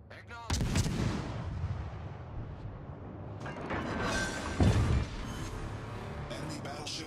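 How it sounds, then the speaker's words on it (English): Warship cannons fire in a naval combat video game: heavy booming shots with long rumbling decay, one louder blast mid-way, while voices call out over the battle noise. "Concentrate fire on the enemy warship"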